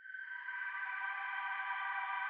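A sustained synth pad from a Nexus preset holds a steady chord in the song's key, smooth and washed in heavy reverb, with no percussion and no voices.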